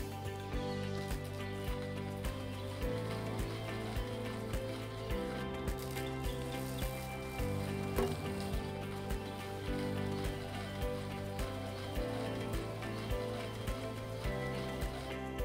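A travelling sprinkler on a garden hose sprays water in a steady patter like rain, with a soft rhythmic ticking running throughout.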